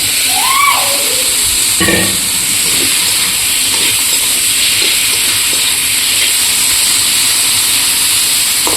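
Tomatoes tipped into a hot pan while lentil dal cooks, giving a steady loud broadband hiss and sizzle that runs the whole time, with a brief voice near the start and a few faint utensil clinks.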